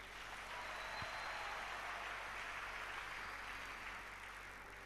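A church congregation applauds together in sustained, steady clapping that holds evenly for several seconds before easing slightly at the end.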